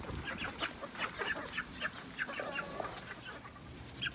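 Backyard chickens cluck and murmur close by in a run beside their coop, giving a busy chorus of short calls over faint outdoor background noise.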